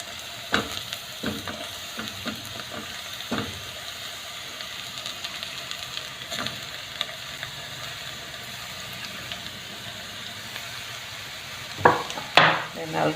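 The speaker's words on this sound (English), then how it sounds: "And I'll give this a good stir." Mushrooms frying in a pot for cream of mushroom soup, a constant sizzle broken by clacks and scrapes of a spoon stirring, with louder knocks near the end.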